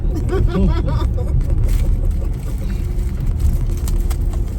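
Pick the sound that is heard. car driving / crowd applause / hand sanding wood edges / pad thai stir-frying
car driving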